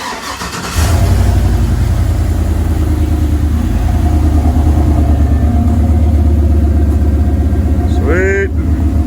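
A rock bouncer engine running loud and close through a short exhaust with no muffler, a steady throbbing idle after startup, with a brief revving flutter near the end.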